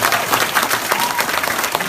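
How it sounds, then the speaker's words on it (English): An audience gives a dense, sustained round of applause at a congratulatory event, close and loud throughout. "another round of applause for them"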